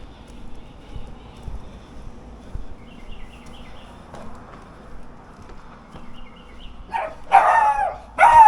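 A small dog gives a few sharp, loud barks and yips close by near the end, after a long stretch of quiet background murmur.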